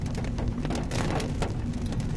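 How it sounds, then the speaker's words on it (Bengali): Steady, dense rain pours onto a village road after dark, a constant close hiss and patter with no pauses and no voices. "তার মাঝে আবার বৃষ্টি।"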